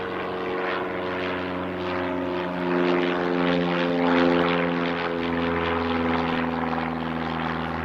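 A propeller training plane of the Aero Club at Christchurch airport drones steadily, its engine hum holding a sustained buzzing tone that swells slightly midway, with no talking.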